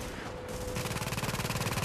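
Rapid automatic gunfire in The Division, a fast steady stream of shots that starts partway in and keeps rattling loudly to the end.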